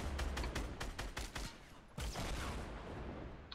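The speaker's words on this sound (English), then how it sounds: "Time to spam some rockets." Rockets fired rapidly in a duos shooter video game, a fast run of sharp repeated blasts followed by a rumbling burst, loud and dense, with no talking.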